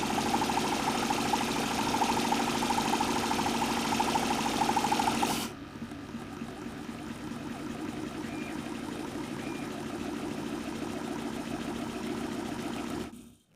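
A homemade Stirling engine mounted on a bicycle runs at high RPM with its clutch disengaged, a steady, fast mechanical whirr and clatter, louder at first, then dropping to a quieter continuous hum before stopping abruptly.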